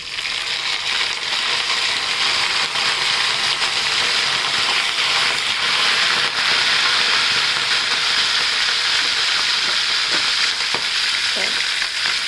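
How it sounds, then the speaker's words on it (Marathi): Curry leaves and green chillies sizzle and crackle in hot oil, a loud, steady frying hiss that holds without a break. "आता आपण तेल तापत घेतलं कढीपत्ता आणि हिरवी मिरची टाकूया"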